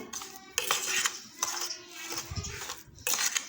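Yogurt whisked in a bowl for shrikhand gives rhythmic clinking and scraping strokes of a utensil against the bowl in short bursts, close and fairly crisp, with no talking.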